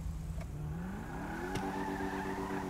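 A McLaren 675LT engine from a GTA 5 real-life cars mod climbs in pitch as it revs up, then holds a strong, even tone at the higher revs; it sounds close, with no talking.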